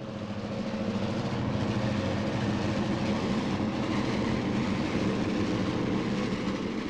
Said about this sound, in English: This mail train is heading toward the industrial zone of our layout.